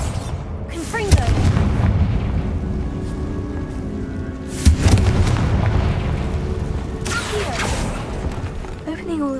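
Confringo explosive spell bursts in the video game Hogwarts Legacy, two loud booming blasts a few seconds apart over a rumbling game soundscape, with a third softer burst near the end.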